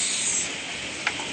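Water poured from a container into a fish tank holding betta fish, a steady close hiss of splashing flow lasting about a second with a small knock near the end.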